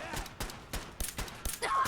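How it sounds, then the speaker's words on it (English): Rockets fired in a video game go off in a quick run of sharp bursts, several blasts in under two seconds, fairly faint. "Oh god, stop shooting rockets."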